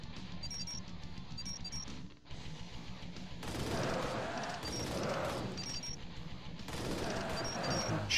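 Submachine gun fire in the arcade game Arcade Paradise, rapid bursts of clattering shots that swell louder in the second half amid beeping game sounds.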